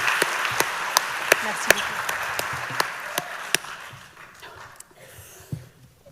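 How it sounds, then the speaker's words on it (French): An audience at an awards ceremony applauds with steady clapping that gradually thins out, and a voice speaks briefly near the end. "On peut l'applaudir, c'est très très fort ce qu'elle a fait"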